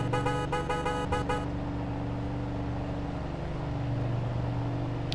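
A car horn honks in the Mafia 2 video game (Definitive Edition), a rapid series of short toots over about a second and a half, loud against steady engine and street noise that carries on afterward.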